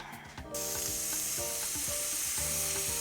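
85% lean ground beef hitting hot olive oil in a pan on medium heat, a sudden loud sizzle bursting in after a quiet moment and holding steady with scraping stir sounds underneath.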